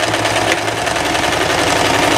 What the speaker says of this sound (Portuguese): então passando a costura reta